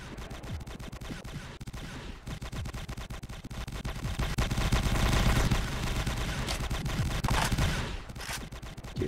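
Rapid bursts of automatic gunfire in a first-person shooter match in a factory map, dense overlapping shots swelling louder in the middle, with faint voices in the background.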